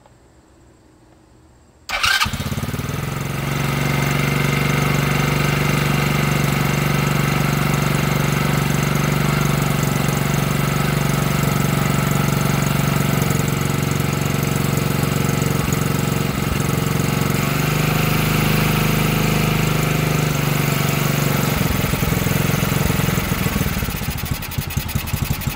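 A small engine in need of carburetor adjustment cranks and catches after a quiet start, then runs continuously at a loud, steady, slightly rough idle for over twenty seconds, close up with no talking.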